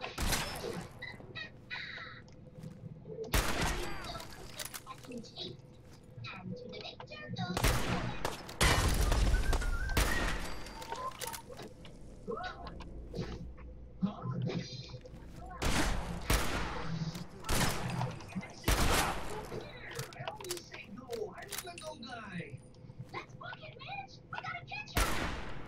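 Gunfire in Fallout 4 on the hardest difficulty comes in loud, separate volleys and bursts spread across the stretch. Quieter ambience, clanks and brief voices sit between the shots.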